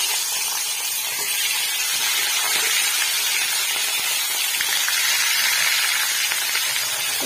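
Fish heads frying in hot mustard oil, a steady loud sizzle and hiss holding even from start to finish, with no voices.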